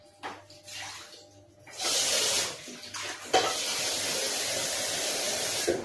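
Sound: water running from a tap for fritter batter

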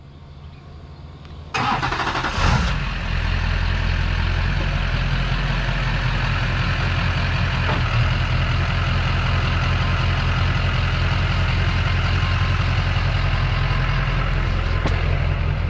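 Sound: Duramax pickup truck engine idling while backing up

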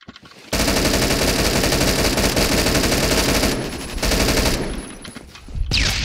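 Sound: video game gunfire shooting through walls (wallbang)

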